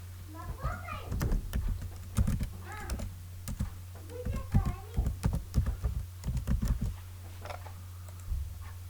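Computer keyboard typing in a spreadsheet program, quick irregular bursts of key clicks, close and fairly loud, over a steady low hum with some faint background voice.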